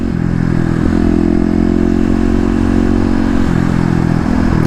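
Kawasaki KLX250 fitted with a 13T sprocket being ridden, engine droning loud and close with steady low rumble and slight shifts in pitch, no talk.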